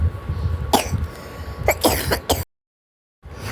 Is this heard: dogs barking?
no